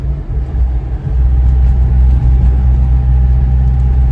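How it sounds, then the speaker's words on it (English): A 1967 Alfa Romeo 1300 Giulia ti driving in fifth gear, its loud steady engine drone carrying a faint gear whine, continuous with no talk. "she does have the ever so slightest bit of fifth gear whine"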